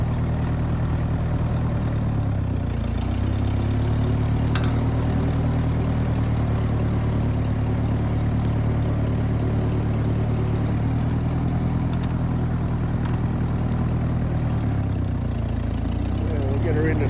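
A 1951 Ferguson TEA20 tractor engine chugging steadily throughout while driving, a loud close low rumble that dips and revs slightly as it runs, with no voices over it.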